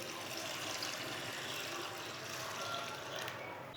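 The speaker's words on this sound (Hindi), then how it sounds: "पानी डाल के मैंने मिक्स कर लिया है।" A glass of water poured over chana dal in a kitchen, heard as a steady, faint wash of splashing and trickling liquid that runs unbroken throughout.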